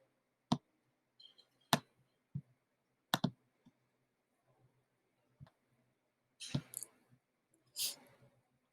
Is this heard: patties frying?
no